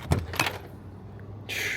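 Car door locks actuate after a module repair: a couple of quick mechanical clunks close together, then a brief whirring buzz near the end, close and fairly loud in a quiet space.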